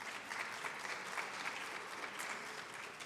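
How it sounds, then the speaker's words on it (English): Steady applause from a scholarship pageant audience, dense and even, holding at a constant level throughout with no voices standing out. "Give them another round of applause."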